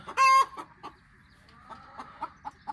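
Free-range chickens cluck inside a poultry shed, with one loud squawk up front followed by softer, scattered clucks close by, and no voices.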